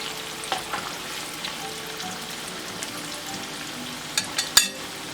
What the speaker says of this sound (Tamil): இது ஒரு 3-4 நிமிஷம் நல்லா பொரியட்டும்.